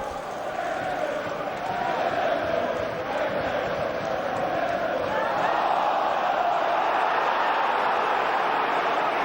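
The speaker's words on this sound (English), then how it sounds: "the crowd are a little unhappy with the performance of the officials" Football crowd at a Liverpool versus Reading Premier League match, a steady dense roar with a restless, disgruntled edge that swells slightly midway, continuous and loud throughout with no clear individual voices.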